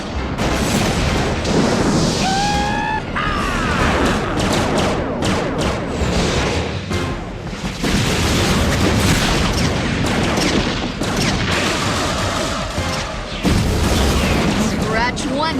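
Cartoon space battle with spaceships opening fire: dense, continuous blasts and explosive booms fill the scene, with laser-like swooping tones and shouted voices over the barrage throughout.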